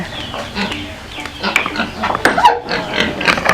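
A piglet with its head stuck in a small hole squeals and grunts in a farmyard, mixed with clucking chickens and people talking nearby.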